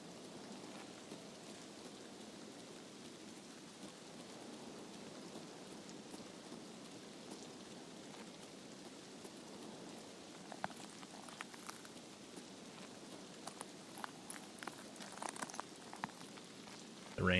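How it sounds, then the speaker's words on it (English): Steady rain falls in the game Escape from Tarkov, a constant patter with sharper drip ticks growing denser toward the end, no talk over it. "The rain is not helping me."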